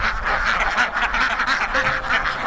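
Ducks on an open-field duck farm quack continuously in a dense, overlapping chorus, close and loud, with the calls tumbling over one another across the whole stretch.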